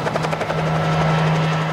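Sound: helicopter flying during wild horse roundup

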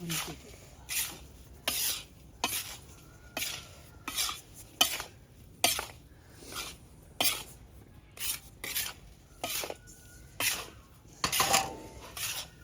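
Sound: desi sugar being added and stirred into panjiri

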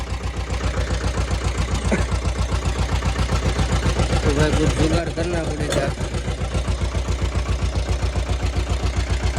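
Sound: tractor engine idling

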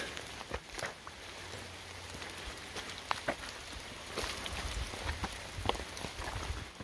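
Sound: rain falling while hiking the Appalachian Trail

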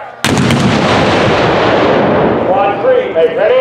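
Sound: Civil War mortar or cannon firing at artillery match

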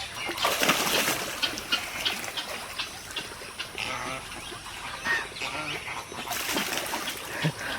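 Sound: duck diving and splashing in rainwater

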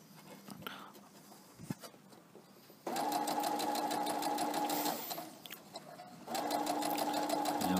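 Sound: sewing machine sewing a fabric fruit protection bag

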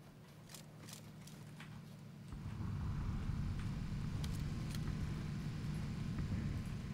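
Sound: car driving along road in PUBG video game

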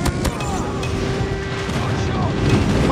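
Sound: airstrike explosions in Call of Duty Mobile video game

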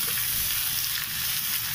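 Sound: vegetables slowly sautéed for Maggi

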